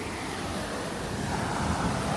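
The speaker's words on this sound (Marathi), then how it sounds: "हा बघा अरविंद आणि तुम्हाला दाखवतो पाण्या फोर्स किती आहे तुम्ही बघा" Steady, forceful rush of water roaring continuously and close, a dense broadband wash with a slight swell toward the end.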